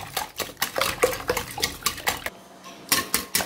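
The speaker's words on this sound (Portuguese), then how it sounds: "Então, é só misturar, batendo bem por 1 minutinho." Eggs are beaten briskly in a bowl for a no-bake pudding, making rapid, rhythmic clinking strokes close by, with a brief pause partway through.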